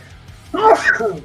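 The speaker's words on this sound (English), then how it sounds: "What? Bless you." A single close, sudden sneeze bursts out after a quiet moment indoors, a short voiced outburst with a quick trailing tail.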